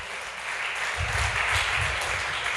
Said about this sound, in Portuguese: Dê um aplauso e glorifique o nome do Senhor.